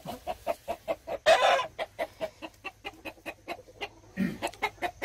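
Seven-year-old chickens cluck in a steady, rhythmic series of short calls nearby on a rural farm, with one louder squawk partway through.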